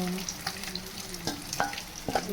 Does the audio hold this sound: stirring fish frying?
yes